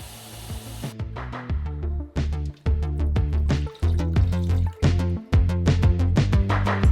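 Water poured into a modified Nature's Head toilet pee bucket drain, heard as close, uneven splashing and trickling in short bursts with brief pauses, loud and alone.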